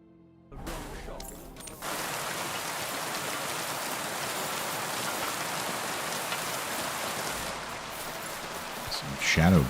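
Rain pours in Kingdom Come: Deliverance II, starting abruptly and then holding as an even, hissing patter for most of the stretch, with a brief voice and other sounds rising near the end.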